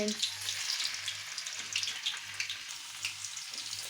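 Paneer pieces frying lightly in oil, a soft continuous crackling sizzle with fine pops, close and fairly quiet, with a faint low hum underneath.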